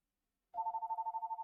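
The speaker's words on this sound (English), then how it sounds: "Oh, and now the phone's gonna ring." A telephone rings with a steady electronic trill that pulses rapidly, loud and close, starting after a brief silence and continuing alone with no talk.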